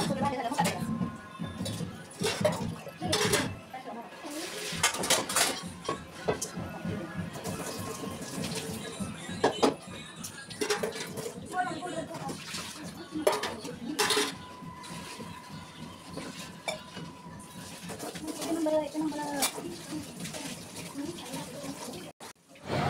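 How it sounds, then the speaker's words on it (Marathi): Dishes and pots get scrubbed and rinsed at a kitchen sink, with running tap water, clattering metal pots and plates, and clinking utensils. Voices talk over the washing throughout. "तर ती भांडे घासते"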